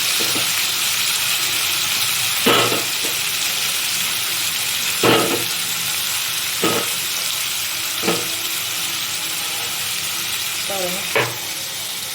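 Tomatoes and onions sautéing in a pan for a fish curry: a steady sizzle runs throughout, with several short sharp stirring or scraping bursts at intervals and no talk.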